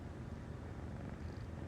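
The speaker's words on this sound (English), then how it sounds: "That's another pussycat's purring in my ear." A pet cat purrs close by, a steady low rumbling that runs unbroken and soft with no talking over it.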